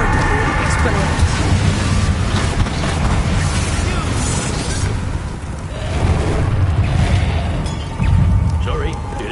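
Bombarda and Confringo explosive spells going off in Hogwarts Legacy. Repeated booming blasts crash over a dense, loud battle din while a voice calls out the spell names.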